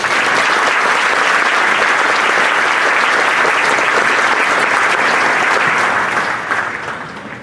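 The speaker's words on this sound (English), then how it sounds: "Let's give them a round of applause." Audience at a Coastal Bend College graduation ceremony giving a loud, dense round of applause that stays full for several seconds before tapering off at the end.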